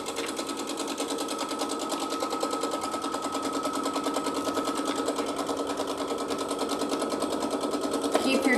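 Sewing machine stitching a quilt backing together, a continuous fast mechanical whir with a rapid regular needle rhythm, heard close and steady for several seconds.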